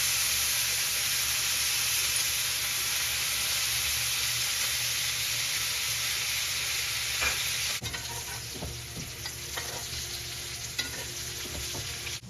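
Filet mignon sizzling loudly in a hot pan with butter, rosemary and garlic, a steady close hiss with scattered spits and crackles throughout, growing more uneven toward the end.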